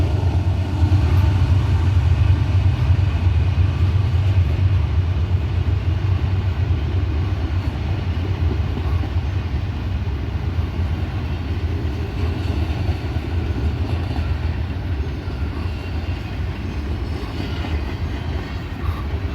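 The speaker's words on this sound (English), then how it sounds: "Train out of Greenwood, heading towards Atlanta." A freight train with refrigerator cars rolls past on the line toward Atlanta. It makes a steady, loud, continuous rumble and clatter of wheels on rails for the whole stretch, with no voices.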